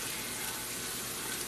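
A tablespoon of butter sizzles in a hot non-stick frying pan on a gas flame, a steady close hiss with no voices over it.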